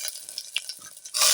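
Curry leaves drop into hot oil for tempering alongside cinnamon, cloves and fennel, giving a short crackle and stir that swells into a loud, bright sizzle at the end.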